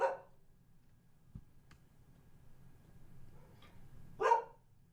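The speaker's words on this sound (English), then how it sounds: "Dog barking" A pet dog about 12 years old barks in two loud, sharp bursts, one at the very start and one near the end, with a quiet stretch between.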